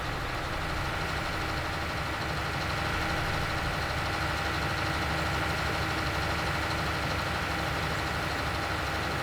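Tractor engine in the farming game Farming Simulator 19 idles and runs at a steady, constant drone throughout, dense mid-range rumble with no talk over it.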